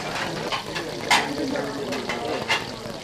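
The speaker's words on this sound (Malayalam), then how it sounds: "പിന്നെ മസാല പരട്ടുകയാണ്." Masala being stirred and sautéed in a pan, a steady sizzle with scraping spoon strokes at intervals, close and moderately loud.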